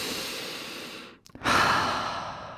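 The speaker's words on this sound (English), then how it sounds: "take a deep breath" One slow, deep breath is heard up close, a long airy exhale fading to a brief pause, then a full, loud inhale that tapers off.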